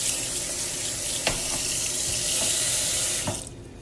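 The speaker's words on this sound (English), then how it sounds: "Get all that water out, put this pasta somewhere else." Water pouring from cooked pasta being drained at a kitchen sink, a loud steady close rush of running water with a few small clanks, cutting off near the end.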